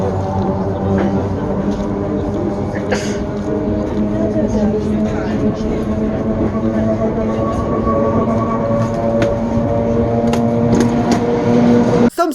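An old, slow passenger train rides through rural Ukraine, with a steady rumbling roll of the carriage and a low droning hum throughout, plus occasional clanks and squeaks close by.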